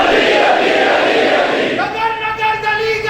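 A packed majlis crowd on the eighth of Muharram roars religious slogans in unison, a dense loud wall of voices that gives way to a leader's sustained chanted call over a lingering crowd murmur.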